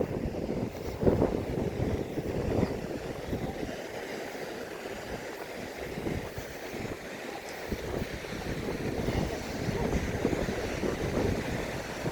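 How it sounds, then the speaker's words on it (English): Wind picks up at a beach in La Mata, Spain, gusting in rough rumbling bursts against the microphone over a steady wash of surf, with no voices. "Hear the wind picking up."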